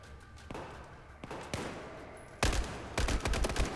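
Gunfire in the shooter game Battlefield 4 starts as a few isolated shots, then breaks into a loud, rapid automatic volley over the final second and a half.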